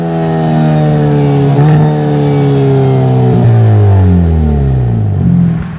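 A 2023 Hyundai Elantra N revs hard in sport mode, its loud exhaust note rising and falling through several sweeping engine pulls with no talking over it.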